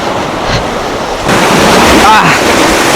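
Strong sea waves surging and crashing around a swimmer near an island, loud and close with roaring surf and wind buffeting the microphone. A voice talks faintly under the din.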